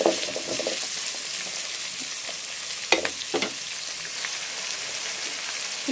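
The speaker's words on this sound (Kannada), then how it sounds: "ಇವಾಗ ಇದನ್ನು ಒಂದು ಸ್ವಲ್ಪ ಫ್ರೈ ಮಾಡ್ಕೋಬೇಕು" Sweet pumpkin pieces fry in a pan for gojju, giving a steady soft sizzle with occasional scraping stirs and a few sharper clinks, moderately loud and close with no talking.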